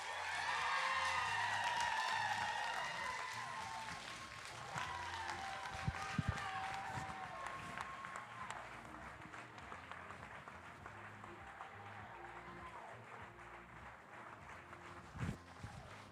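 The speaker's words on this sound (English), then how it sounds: "Let's give everybody another round of applause." An audience applauds at a pitch night event after an introduction, with strong clapping at first that thins to scattered claps and a low room murmur.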